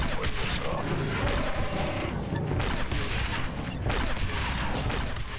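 Dense, continuous gunfire and blasts from Wookiee bowcasters, rocket launchers and other weapons in the Star Wars Republic Commando video game, loud and unbroken with no voices.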